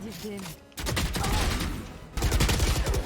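Rapid automatic Phantom rifle fire in Valorant, in loud, close bursts with a short pause between sprays and a voice briefly heard at the start.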